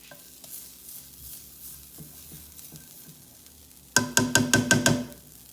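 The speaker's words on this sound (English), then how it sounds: "Get all that butter all over the pan." Butter spread around a pan over low heat, a soft sizzle under quiet scraping, then a burst of rapid, louder scraping strokes near the end.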